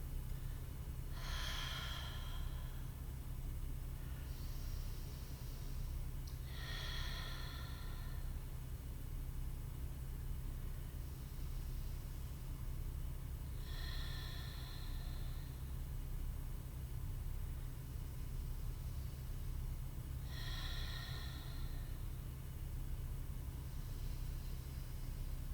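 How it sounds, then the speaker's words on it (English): Slow, deep breaths during a seated forward fold in yoga, several long exhales spaced a few seconds apart over a steady background hum, close and soft. "let's just take 5 good breaths"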